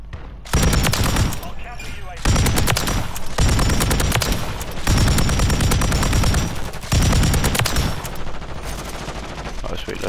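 PULEMYOT machine gun in Call of Duty MW3 fires long, loud sustained automatic bursts, separated by short pauses, with dense rapid cracks dominating the mix.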